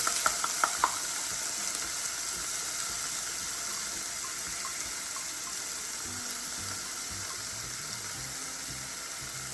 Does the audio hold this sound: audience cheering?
no